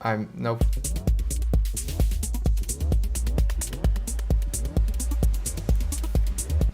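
A techno beat in Ableton Live with punchy low kicks and crisp, short closed hi-hat ticks from the Operator synthesizer, repeating in a steady, fast rhythm, loud and upfront with no voices.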